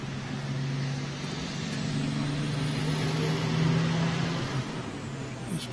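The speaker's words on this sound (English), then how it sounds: "Trucks seem very noisy this afternoon as well." Heavy trucks roll steadily past on a busy road, a continuous loud low engine drone with a rising and falling rumble over nearly six seconds and no talk.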